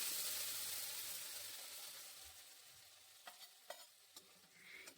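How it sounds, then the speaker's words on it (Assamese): Masala paste frying in a kadai with bay leaves and whole cumin, giving a soft hiss that fades over a few seconds, then a handful of sharp stirring clicks near the end; faint and close, no talk. "এইখিনি মই অলপ দেৰি ভাজি ল'ম গাইজ, কেৰাহীখনত লাগি ধৰালৈকে"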